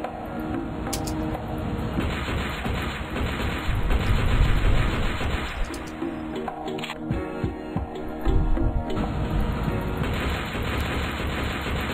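Repeated bursts of gunfire from the video game Siftheads, dense and loud with heavier booming stretches, running continuously over a busy game soundtrack.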